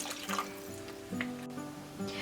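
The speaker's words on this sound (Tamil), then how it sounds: "கூடவே 1/2 கப் தண்ணியும் சேர்த்துக்கோங்க." Half a cup of water poured into simmering masala for an egg salan biryani gravy, a faint, soft splashing and trickling with a low background hum, no talk.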